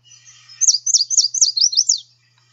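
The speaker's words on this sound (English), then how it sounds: "individuals that can sound a little trickier like this one, which resembles almost more like a chestnut-sided warbler" A yellow warbler sings a song that resembles a chestnut-sided warbler's: a soft, thin lead-in followed by a clear series of six or seven loud, sweet, slurred whistled notes in an even rhythm, heard alone and close.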